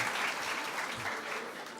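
An audience fills a hall with dense, steady applause that holds at an even level throughout.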